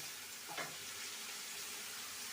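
Tomatoes sizzling and frying in a pan with egg, a steady, soft crackling hiss that runs throughout, with a brief stir-like swell near the start.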